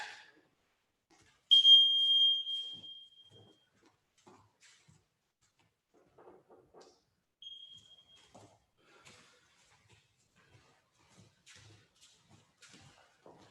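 A kitchen-style timer beeps loudly in a bright, sustained tone for about two seconds near the start of a youth jiu-jitsu class, followed later by a short fainter beep and quiet shuffling and distant voices.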